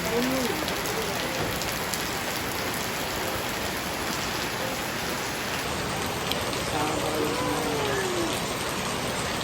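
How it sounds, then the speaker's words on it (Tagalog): Heavy, steady rain pours down without pause, a dense hiss of drops pattering on surfaces close by, with faint voices briefly under it. "lumakas yung ulan"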